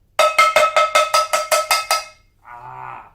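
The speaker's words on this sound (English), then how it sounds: "a wooden spoon and a pan makes noise" Wooden spoon banging on a pan, about nine quick metallic clanks in a steady rhythm, loud and close, followed by a short different tone.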